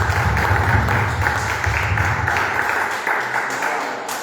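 A church congregation claps together in praise, a sustained dense patter of many hands at full loudness, continuing steadily before tapering slightly at the end.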